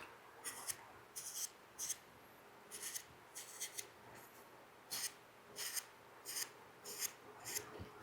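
A number 3 flat gouge cutting into a carved wooden pumpkin, with a series of short, quiet scraping strokes repeating in an irregular rhythm.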